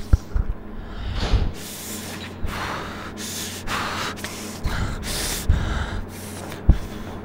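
While playing Resident Evil 2, a streamer imitates a monster's breathing with a voice, producing a series of harsh, close gasping and snorting breaths in an uneven rhythm.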